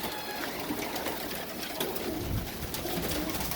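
A pigeon coos in low, rolling calls, one swelling clearly near the middle, against steady background noise and faint trickling, with no voices.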